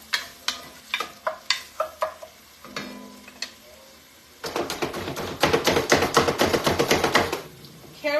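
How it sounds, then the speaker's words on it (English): A wooden spoon stirring white bean soup with carrots in a pot, first in separate knocks against the pot, then a fast run of rhythmic scraping taps, close and clear. "we'll just use the traditional wooden spoon here"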